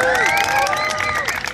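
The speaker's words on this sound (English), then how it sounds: "You guys make a big cheer." A crowd of children at a London street performance cheers and shouts loudly together in a brief, excited burst.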